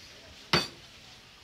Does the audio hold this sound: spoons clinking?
yes